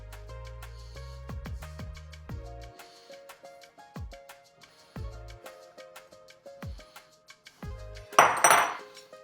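Food tossed together in a bowl during home dinner preparation: light metallic clinks and ringing taps of utensils against the bowl in an irregular rhythm, ending with a brief louder scrape and clatter.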